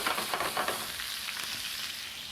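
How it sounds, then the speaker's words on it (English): Shrimp sizzle steadily in a hot pan, with a dense, even frying hiss and a few soft stirring crackles close by, no voices. "shrimp into the pan"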